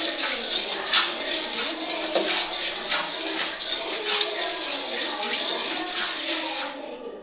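Pearl millet and roasted gram dry-roasting in a pan, with a steady, close scratching and rattling of grains being stirred against the metal, broadband and continuous throughout with faint clinks.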